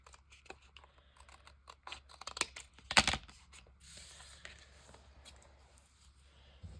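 Scissors cutting paper around a circle for a handmade journal card, close crisp snips and rustling, with one louder crunching cut in the middle, fairly quiet overall.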